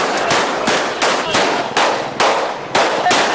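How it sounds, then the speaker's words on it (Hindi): Gunshots fired into the air at a political youth rally celebrating Bilawal Bhutto's anniversary in Dadu, with six or seven loud, sharp cracks coming at irregular intervals of roughly half a second and ringing briefly after each. "इस रैली में हवाई फायरिंग की गई, जिससे खौफो हरास फैल गया।"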